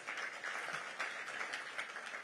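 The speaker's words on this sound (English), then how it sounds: "can we give him again another round of applause?" A conference audience gives a round of applause, an even, moderately faint patter of many hands clapping that continues steadily with no talking over it.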